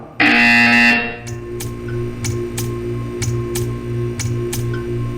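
A loud, harsh electronic buzzer from Portal 2 blares for about a second, then a steady hum continues with a regular series of faint clicks ticking along.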